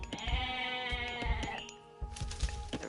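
Goats in Age of Mythology Retold bleat in a string of wavering, nasal calls, several overlapping cries close by, with short clicks and thumps between them.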